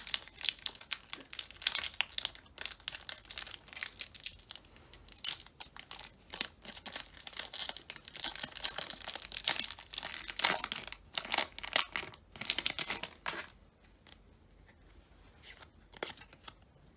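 A Pokémon card booster pack wrapper being torn open and handled, with close, crisp crinkling and rustling foil in busy bursts, tapering to quieter scattered crackles at the end, no voices.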